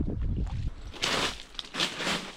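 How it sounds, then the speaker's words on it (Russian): A strong headwind buffets the microphone while waves wash and slap around a kayak on Lake Baikal, a rough, uneven rush in short gusts. "ветер уже усилился и гонит неприятную волну"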